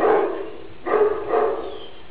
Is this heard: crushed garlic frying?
no